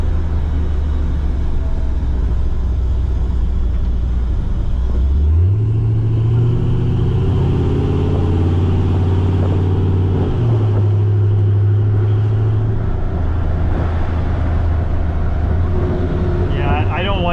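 A Camaro V8 is pushed to wide open throttle, its deep, loud exhaust rumble rising in pitch as it pulls, then dropping at a shift and climbing again under spoken commentary.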